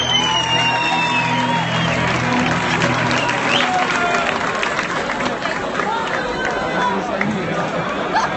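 Concert crowd applauding a performer at a live show, a dense, steady wash of clapping with scattered cheers and chatter throughout, loud and close.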